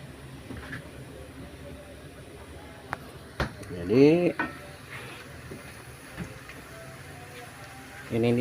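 Akar pinang cookie dough fries in hot oil with a steady soft sizzle, broken by a few stirring and utensil clinks close by, with a person speaking quietly.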